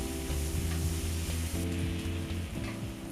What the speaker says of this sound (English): we're going to add in a diced up onion. And saute that until it's translucent.